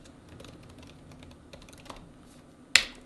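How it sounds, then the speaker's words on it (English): A generated sound effect of aggressive typing on a keyboard, a dense run of quick, soft key clicks ending in one loud, sharp smack, with no talking. "Let's just do keyboard, typing on a keyboard."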